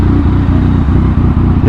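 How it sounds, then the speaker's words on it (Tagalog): A 2021 Yamaha XSR 900 motorcycle engine runs loud and close with a steady rumble and throttle, its untuned state bringing slight popping. "Hindi pa yata na-tune to, medyo meron siyang popping sounds."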